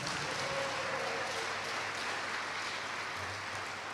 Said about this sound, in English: Let's give a round of applause to SAB, our main sponsor.